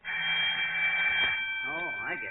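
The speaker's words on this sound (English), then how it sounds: "always press this button before you open the showcase or the alarm rings" A jewelry store burglar alarm rings in an old radio comedy sound effect, a continuous harsh ringing tone that holds steady, with a voice speaking over its tail.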